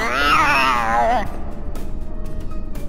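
A cat meows in the Harry Potter PS1 game, one loud, drawn-out wavering cry lasting about a second, then breaking off into quieter background game sounds.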